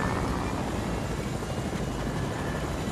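Helicopter flying in the video game Fortnite, a steady broadband rotor and engine roar held at an even, fairly low level without pause, with no talk over it.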